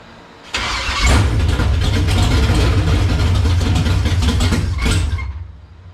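A 1971 Chevelle engine catches and runs loudly and roughly for about five seconds, a dense close rumble with uneven surging, before dropping off abruptly. No one speaks.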